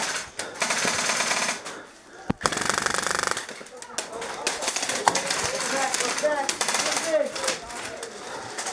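Airsoft guns fire in an outdoor game, with rapid rattling bursts and sharp single cracks, some close and some farther off, while players shout and talk over the shooting.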